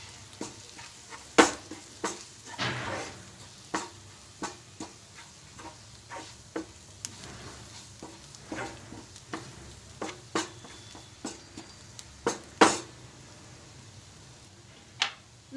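Chili, coriander and turmeric powder being stirred in a pan for baingan bharta, a quiet soft sizzle punctuated by repeated sharp scrapes and taps of a spoon against the pan at irregular intervals.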